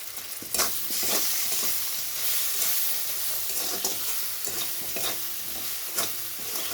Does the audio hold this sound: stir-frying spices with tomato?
yes